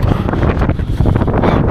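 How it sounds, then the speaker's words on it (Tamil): Strong wind blows hard across open Mongolian steppe, buffeting the microphone with a loud, continuous low roar and gusty rumble, and no voices are heard. "காற்று விசு நல்லா அடிக்குதுங்க."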